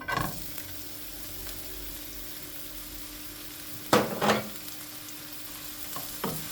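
Onion drops into hot oil for a Goan country chicken dish, a faint steady sizzle broken by a few sharp stirring scrapes and clatters, close-up and without talk.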